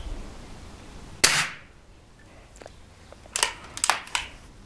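A match is fired at the lens of a pair of safety glasses from close range. One sharp, loud snap is followed by a few fainter ticks and clicks a couple of seconds later.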